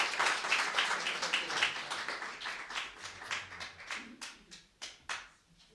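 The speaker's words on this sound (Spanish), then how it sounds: "Un aplauso para empezar." An audience applauds before the first story at a storytelling event, dense clapping at first that thins out into scattered, separate claps and then fades quietly.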